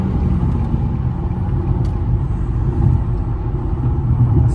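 A car with its muffler removed rumbles past, a steady low, throaty drone that stays loud and near through the whole stretch with no voices over it.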